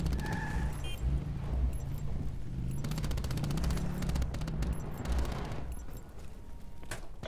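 Bursts of rapid automatic gunfire in Call of Duty Black Ops 4 Blackout mode, dense volleys crackling close and loud, with brief gaps between strings of shots.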